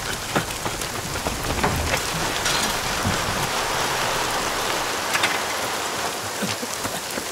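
Steady rain falls throughout, a dense hiss with scattered nearer drops striking surfaces, loud and continuous with no voices.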